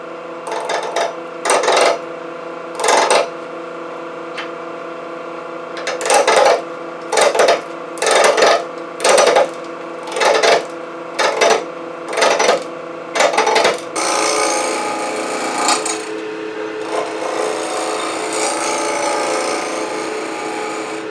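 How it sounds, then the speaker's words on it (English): A wood blank is rough turned on a lathe while the motor hums steadily. Regular loud bursts of gouge cutting come first, then settle into a continuous rougher scraping as the piece keeps spinning. "I'm going to rough turn it so it'll dry out"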